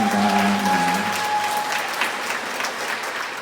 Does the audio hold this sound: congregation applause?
yes